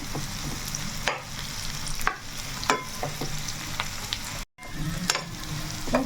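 Bitter gourd fries in a pan for a spicy gourd powder, with a dense, continuous close sizzle and occasional sharper scraping strokes as the pieces are stirred.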